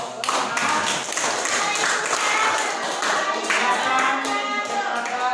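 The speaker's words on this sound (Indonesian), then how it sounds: "Ya, kasih aplaus." Classroom applause during a school lesson practice, many hands clapping steadily and loudly throughout with scattered taps and thuds, close and continuous with no pauses.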